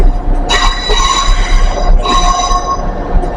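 A model railway train, a Class 350, running along the track with a steady rolling rumble, high metallic whining tones and a brief dip midway, continuous and fairly close throughout.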